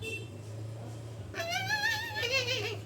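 A cat meows in two drawn-out, wavering calls in the second half, loud and close over a steady low hum, with no talk.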